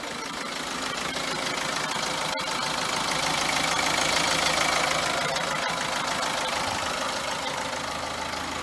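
A Vauxhall Astra 1.3 CDTi Ecoflex diesel engine idles with a steady, close clatter and broad mechanical rumble, continuous and without talk.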